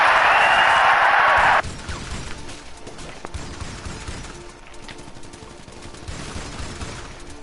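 Gunfire in a PS4 video game: a loud, dense burst of rapid shots for about a second and a half, then a quieter stretch of game ambience with scattered low thumps.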